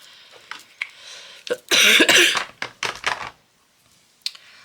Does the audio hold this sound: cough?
yes